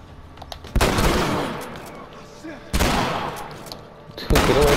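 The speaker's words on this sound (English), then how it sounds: "Who else is shooting?" Three loud gunshots ring out in The Last of Us video game, each a sharp crack with a trailing echo, spaced a second or two apart.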